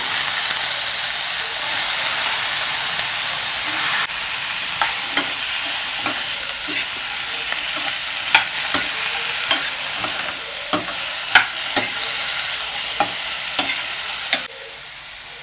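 Continuous loud sizzling of radish frying in a pan, with scattered scraping clicks of a spoon stirring throughout; the sizzle drops off near the end.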